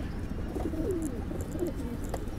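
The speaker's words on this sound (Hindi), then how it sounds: "ये रॉयल टेडी कबूतर है।" A royal teddy pigeon with a black tail gives a low, throaty coo, a short rolling call over faint background noise with no one speaking.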